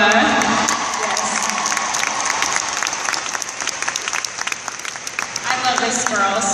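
A crowd claps loudly and cheers to welcome guest Christy Bowers from Iowa at a Limelite event. The dense, sustained applause runs throughout, with scattered whoops and voices mixed in.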